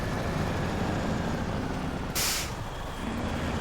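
Kenworth C500 truck in the SnowRunner driving game, its engine a steady broadband drone throughout with a short hissing burst like an air brake release partway through, no speech.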